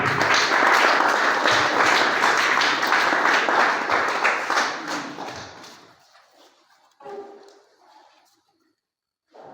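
An audience claps for a top student at an awards ceremony, a loud dense round of applause that tapers off over several seconds, then scattered faint sounds and a brief voice.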